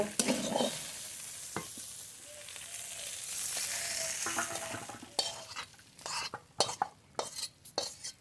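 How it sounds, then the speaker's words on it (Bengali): Local freshwater fish fries in hot oil with a steady, close sizzle that gives way to sharp, irregular clatters of a utensil scraping and tapping the pan, with no voices. "মাছটি খুব ভালো করে ভেজে নিয়েছি নামিয়ে নেব"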